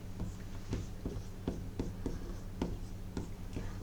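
Marker or chalk writing on a board during a rectangle area lesson in a class 7 math session, a steady series of short scratchy strokes close by with no talking.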